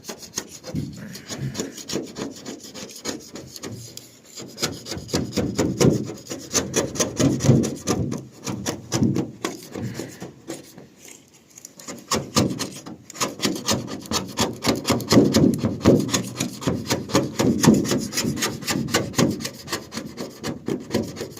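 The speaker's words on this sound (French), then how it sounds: "Un coup de papier de verre après, on n'en parle plus." Sandpaper rubs back and forth over a wooden piece being sanded down before repainting, steady close rasping strokes in a continuous rhythm for the whole stretch, briefly easing off midway before resuming at full strength.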